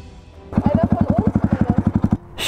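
A motorcycle engine runs close by with a rapid, steady, pulsing chug that continues for about two seconds before it cuts off as the bike is parked.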